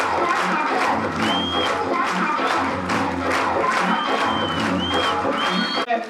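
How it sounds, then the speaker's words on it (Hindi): Crowd at a celebration event in Mughalsarai, India, applauding and cheering loudly and continuously, with whoops and shouts rising over dense clapping throughout. "जोरदार तालियां दोस्तों, तालियां रुकनी नहीं चाहिए"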